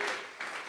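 A church congregation claps together in an offering of applause during a Spanish-language worship service, a brief, dense burst of hand-clapping that dips and then swells again.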